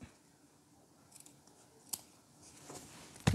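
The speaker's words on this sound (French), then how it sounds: "Et vous pouvez couper votre surplus pour qu'il ne se voit pas" Scissors snip excess fabric while a bra is being sewn, a few quiet, sharp cuts spaced out over faint background, with a louder close snip at the end.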